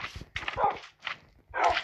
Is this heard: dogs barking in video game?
yes